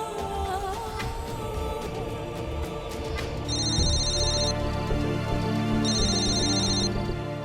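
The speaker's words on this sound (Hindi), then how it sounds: "मैं एक फोन लेती हूँ।" A phone rings in a Hindi TV serial scene, a repeating electronic ringtone layered over background music, with the ring pattern sounding in two clear bursts.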